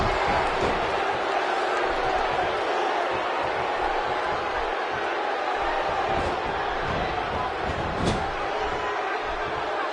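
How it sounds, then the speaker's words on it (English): A steady, loud buzz of an arena crowd in the WWE 2K16 wrestling game, with a dense roar of massed voices and occasional sharp thuds from the ring. "The crowd is buzzing."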